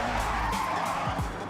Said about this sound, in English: Let me lower the car sounds a little bit.